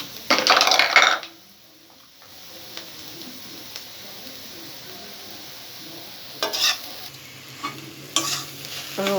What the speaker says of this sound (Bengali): পাতাকপি ডিম ভাজা হয়ে গেল